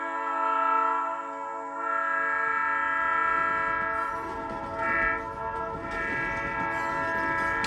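Sustained loud horns blare in a continuous chord like a train horn, with a rumbling undertone, holding steadily for several seconds without talk.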